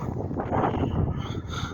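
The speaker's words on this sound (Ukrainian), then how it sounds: "Пішов вітер страшне" Strong wind buffets the microphone in a steady low roar, with gusty swells rising and falling throughout.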